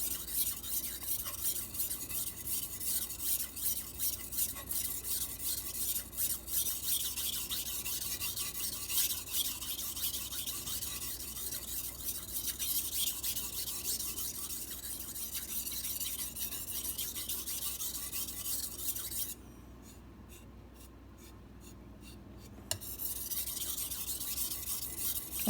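Carbon steel Santoku knife sharpened on a whetstone with short strokes, a continuous gritty rasping scrape near and steady, broken by a brief pause near the end and a single sharp tap.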